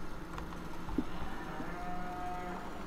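Cattle lowing in Farming Simulator 2013, a few soft, drawn-out moos at a moderate distance over a steady low farm ambience, with no talking.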